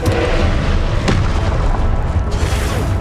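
A Confringo fire spell explodes in the Hogwarts Legacy video game, a loud, continuous booming blast with one sharper burst inside a dense roar of game combat noise.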